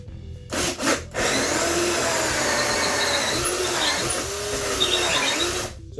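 A drill boring a hole through wood during basic carpentry work, giving a loud, continuous grinding rasp with a few short bursts near the start and slight shifts in pitch as the bit moves.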